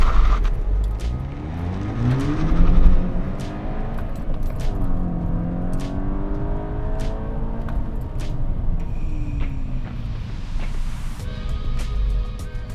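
A Volkswagen 2.0T car fitted with an ECS Tuning OE performance induction kit accelerates hard from first gear, its engine note rising steadily through the revs with a shift or two, loud and close throughout.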